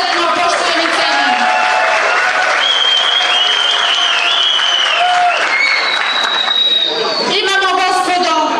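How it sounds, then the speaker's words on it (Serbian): An audience at a community gathering applauds to honour a man, with dense, steady clapping that fills the whole stretch and a murmur of crowd chatter underneath. "Molim vas jedan aplauz za njega"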